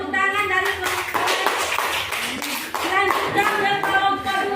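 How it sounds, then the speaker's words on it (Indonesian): A group clapping together in a classroom during a teachers' performance assessment, the claps dense and close, with light voices mixed in. "Silakan tepuk tangan dari kelompok."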